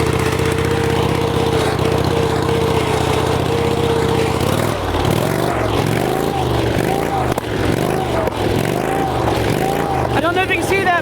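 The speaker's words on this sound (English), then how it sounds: "it still does that weird running rich thing, idle. Or running inconsistently, idle." Kohler Command engine on a Ford Wheel Horse rig, idling unevenly after a carburetor O-ring repair: a loud close steady drone that shifts into a lumpy, surging pulse, with a voice talking over it.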